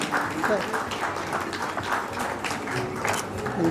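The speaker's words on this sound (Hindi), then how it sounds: "तालियां बजनी चाहिए" Audience applause at a farewell and welcome ceremony, a steady wash of clapping mixed with voices talking over it throughout.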